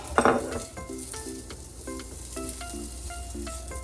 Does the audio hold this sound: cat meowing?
no